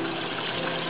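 Water pours from a fish tank through a 2-inch pipe into an aquaponics bio filter barrel, swirling inside: a steady, close, even rush of flowing water with no pauses and no voices.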